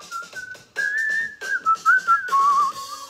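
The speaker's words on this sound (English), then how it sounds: "just gonna add some whistles" A man whistles a wavering melody alone in a recording studio, overdubbing the end of a track, the notes close, clear and sustained in short phrases.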